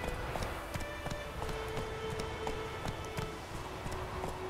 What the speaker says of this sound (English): canter very softly to the place